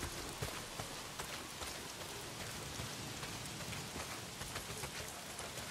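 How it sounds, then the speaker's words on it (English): Rain pours down in the video game Days Gone, a dense, steady hiss of drops spattering on surfaces with faint scattered ticks, quiet and continuous with no voices. "Well, not if it's pissing down rain."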